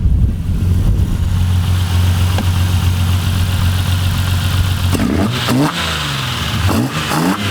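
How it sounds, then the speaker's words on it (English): A Toyota Supra's 2JZ engine with individual throttle bodies idles with a deep, steady rumble, then revs sharply several times, the pitch climbing and falling with each blip of the throttle. "I'll give you a little few revs as a goodbye"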